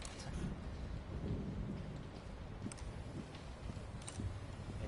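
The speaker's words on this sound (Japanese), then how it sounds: "めっちゃ雨降ってるぞ。" Heavy rain pours steadily in the game Republique, a dense hiss with low rolling thunder rumbling beneath it, alone and without voices.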